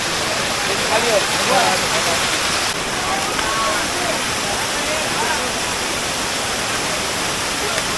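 A waterfall at Navale village in Sindhudurg roars loud and constant, a thick rushing wash, with people's voices faintly mixed in early on.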